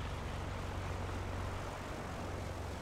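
Beechcraft propeller plane in Microsoft Flight Simulator 2020 taking off on runway 25 left, a steady, loud engine drone with a low humming tone throughout, no speech.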